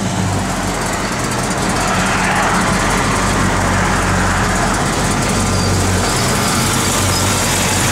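A 1970 Ford F100 pickup with a 460 engine running, a loud, constant low engine rumble and drone that holds steady throughout, heard up close.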